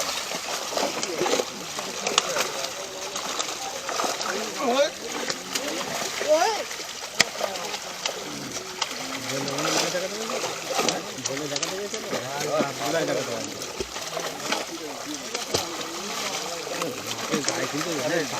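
Fish splashing in water as they are poured into a newly opened village pond, with rui among the catch; repeated splashes and water sounds run throughout under steady talk from several people.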